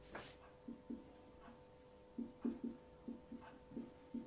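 Chalk or marker writing on a board during a classroom lesson, heard as a series of short, light scratching strokes in small bursts with pauses between, fairly quiet, with no talking over it.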